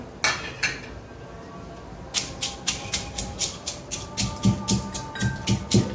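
Green chili, garlic, coconut and salt pounded in a stone mortar and pestle for peanut chutney, a steady series of sharp close thuds and clinks, speeding into a regular rhythm.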